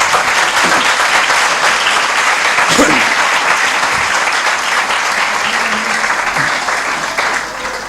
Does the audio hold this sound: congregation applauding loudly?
yes